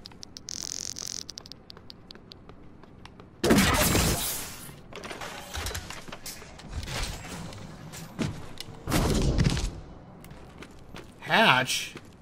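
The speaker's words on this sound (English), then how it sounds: "It sounds like I'm stepping on glass." Footsteps crunch over broken glass in the video game Prey, heard as several loud, gritty bursts spaced through the clip, with a voice talking in between.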